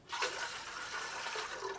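About one and a half cups of water are poured into an idli steamer pot, a steady splashing gush lasting under two seconds, fairly loud and heard alone.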